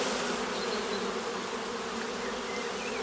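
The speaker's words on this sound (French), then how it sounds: "une partie des abeilles là vont commencer à explorer ce qui est autour" A swarm of stray honeybees buzzes steadily around a hive box set among brambles, a dense, continuous hum that stays close and even throughout with no voices.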